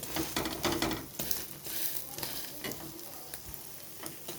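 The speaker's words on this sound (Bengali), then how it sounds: "পরোটাটা দিয়ে খুব ভালো মতো সেঁকে নেব একটু কড়া করে।" Paratha and egg fry together for an egg roll, a crackling sizzle that is loudest at the start and then settles lower, with a few scraping and tapping strokes and no voices.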